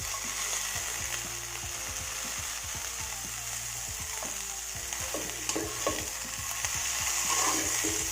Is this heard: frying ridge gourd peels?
yes